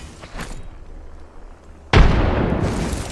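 A frag grenade explodes in Call of Duty: Modern Warfare II, a sudden loud boom after a quieter stretch of distant gunfire, followed by a sustained roaring rumble.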